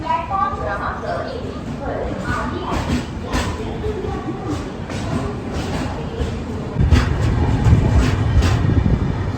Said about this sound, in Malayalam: വീണ്ടും അങ്ങനെ തിരിച്ച് ബലാർഷ റെയിൽവേ സ്റ്റേഷനിൽ എത്തിയിട്ടുണ്ട്